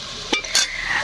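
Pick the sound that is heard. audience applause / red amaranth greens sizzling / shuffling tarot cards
red amaranth greens sizzling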